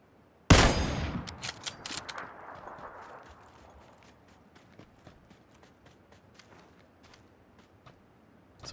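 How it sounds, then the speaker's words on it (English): A single loud, sharp gunshot close by in the battle royale game PUBG rings out with a long fading echo, followed by faint scattered clicks and distant pops. "Someone's shooting at you relatively close."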